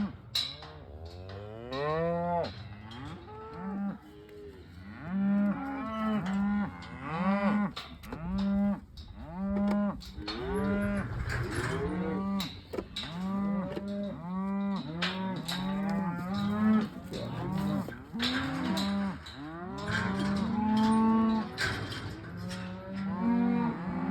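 Many cattle mooing on a farm during spring work, a long run of overlapping calls of different pitches, some near and loud, others farther off, repeating one after another without pause.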